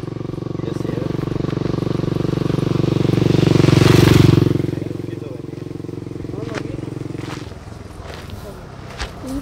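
A motorcycle passes near a road with cars, its broadband roar swelling to a loud peak midway and then fading away over a steady low engine hum.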